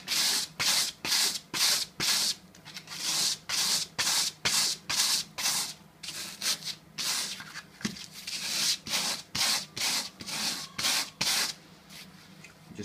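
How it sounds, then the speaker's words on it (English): Sandpaper is rubbed back and forth over the burnt edges of a paint brush in quick, even strokes, about two per second. The rasping sound is close and steady, with no one talking. "get your sandpaper and literally sanding off all the burnt area"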